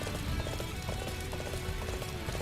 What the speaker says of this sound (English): I'm going to grab a horse and go after them.